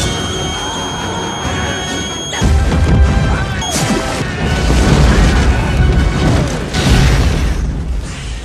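Explosive crash as a grenade detonates inside a giant alien bug in a sci-fi war film, a sudden heavy boom at about 2.4 seconds followed by dense rumbling, cracking and debris-like impacts that stay loud to the end.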